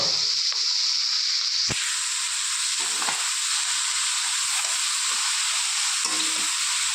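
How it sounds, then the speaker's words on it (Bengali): Chopped spinach drops into a wok already frying onion, chili and prawns, and the hot oil bursts into a loud, dense hiss that settles into a steady close sizzle with occasional stirring knocks. "এই যে কেটে রাখা শাকটাকেও আমি দিয়ে দিচ্ছি কড়াইয়ের মধ্যে।"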